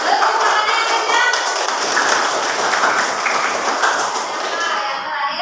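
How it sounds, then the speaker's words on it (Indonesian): A classroom group of teachers claps loudly on request, a sustained dense burst of many overlapping hand claps, close and even in level, easing slightly toward the end. "Tepuk tangannya yang kencang."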